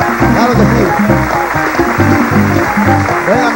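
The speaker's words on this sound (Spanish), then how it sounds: "¡Aplauso para ella!" Audience applause and cheering at a live merengue show, heard beneath the band's loud, driving rhythmic music and steady throughout.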